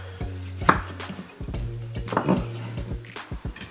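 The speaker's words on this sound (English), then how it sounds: "cut up my tomato like this" A knife chops a tomato on a board in a home kitchen, making a few separate knocking cuts spaced unevenly over a few seconds, close and clear, with a low steady hum behind.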